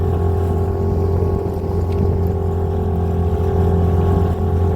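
A Hangkai 18 outboard motor drones loudly and steadily on a boat, running on swapped fuel tanks, with a constant hum and no talking.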